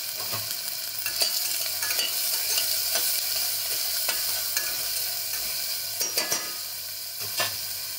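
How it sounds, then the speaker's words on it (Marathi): Ten to twelve curry leaves hit sautéed onion in a hot pan, giving a steady close sizzle broken by a few sharp stirring scrapes, with no voices. "कांदा परतवला की त्याच्यामध्ये कढीपत्त्याचे 10-12 पाने टाकते."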